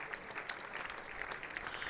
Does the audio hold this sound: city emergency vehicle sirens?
no